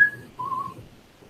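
Someone whistles two short tones nearby, a brief high note followed by a slightly lower sustained one, with no talking.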